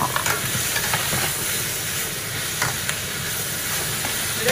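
Onions, thyme and garlic sizzle in a pot for a Moroccan royal couscous, a dense, continuous frying hiss, loud and close, with faint stirring touches throughout.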